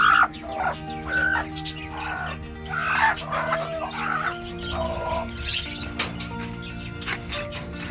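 A broody hen settling on eggs clucks and murmurs softly at close range, with a low steady hum underneath and occasional sharper calls.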